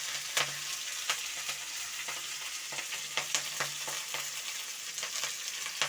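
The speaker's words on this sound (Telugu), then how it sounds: "మిరపకాయలు వేసి బాగా డోరగా వేయించుకోవాలి" Oil sizzling and crackling in a pan as chillies fry, with scattered sharp pops and occasional stirring scrapes, close and moderately quiet.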